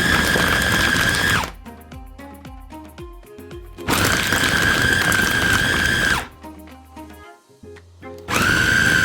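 Kitchen blender grinding meatball dough for Bakso Malang until smooth, with water added, running in three loud, close bursts of steady high-pitched motor whine, separated by pauses filled with clattering and rattling.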